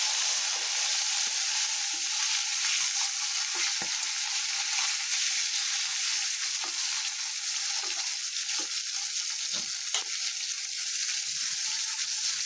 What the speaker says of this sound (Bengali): এই মাছ হলো ভাইজা তুলছি, এখন যে এই কয়েকটা দিয়ে দিছি ভাজার জন্য।